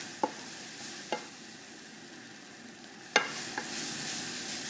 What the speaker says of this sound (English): So give it a stir and get all those flavours working together now